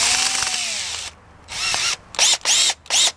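Power drill fitted with a flat drill brush attachment, whirring loudly up close in one long run, then a pause and a series of short bursts with a brief start-stop rhythm, no talk.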